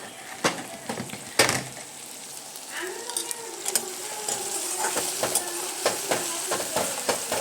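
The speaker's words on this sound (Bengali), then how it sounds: "পেঁয়াজ, আদা, কাঁচা লঙ্কা, রসুন আর টমেটোর পেস্টটাকে অন্তত 2-3 মিনিট আমি একটুখানি কষিয়ে নেব" Onion, ginger, green chili, garlic and tomato paste fry in a pan with a soft steady sizzle, broken by sharp clicks and scrapes of a stirring spoon, while someone talks throughout.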